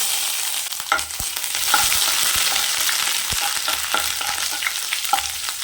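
Curry leaves, ginger and garlic frying in hot oil for chana masala, a steady close sizzle with occasional stirring clicks and pops, no voices.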